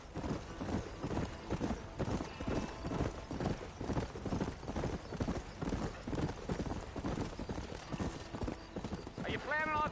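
Horse hooves clip-clop in a steady, rhythmic trot in the video game Red Dead Redemption, close and continuous, with a whinny near the end and people talking over the hoofbeats.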